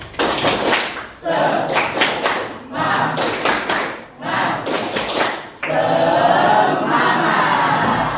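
A classroom of students performs the 'tepuk semangat' clapping chant, bursts of loud rhythmic group clapping and chanted voices in several phrases with short pauses between, ending in a longer sustained burst of clapping and shouting.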